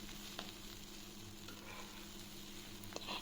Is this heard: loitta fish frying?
yes